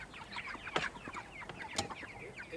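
Chickens cluck in a busy cluster of short, overlapping calls with a couple of sharper squawks, moderately close and steady throughout, with no talking.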